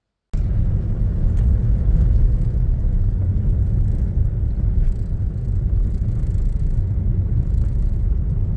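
Steady low rumble inside a moving car, constant road and engine drone filling the cabin at a close, even level without pause.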